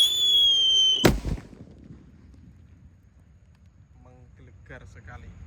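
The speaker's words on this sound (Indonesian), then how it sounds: "Sudah menyala teman-teman, mercon rambo." A single sharp bang from a Rambo firecracker after a second of hissing fuse, followed by quiet outdoor ambience and faint distant voices.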